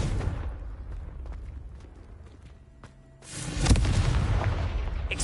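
Confringo explosive spell in Hogwarts Legacy, a heavy booming blast that erupts after a quieter stretch of rumbling game ambience and scattered footsteps, then sustains a loud roaring tail.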